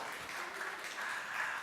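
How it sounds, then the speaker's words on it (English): Brief, steady applause from an audience, moderately quiet and continuous throughout, with no speech over it. "Round of applause, it's fine,"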